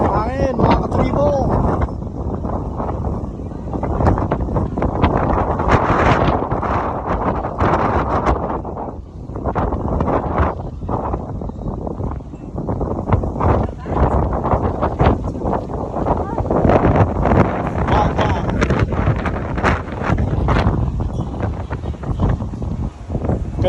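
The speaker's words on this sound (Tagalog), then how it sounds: "Hangin mga katribo." Strong wind buffets the microphone in a constant low roar, with people talking throughout.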